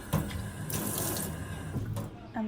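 Tap water runs into a sink as a blood smear slide is rinsed under it, a steady splashing stream with a brief pause near the end.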